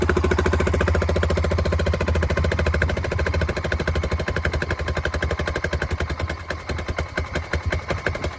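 A 1988 Honda TRX 350D ATV engine idles close by, a fast, loud, even popping chug that slows slightly and grows more uneven over time.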